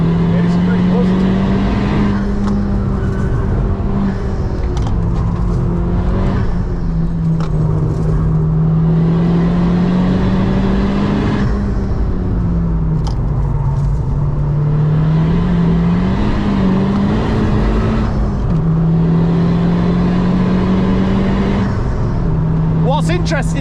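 Honda Civic Type-R FK2 lapping the Nürburgring, its engine droning loudly and continuously with pitch rising and falling through gear changes, heard from inside the car with people talking over it.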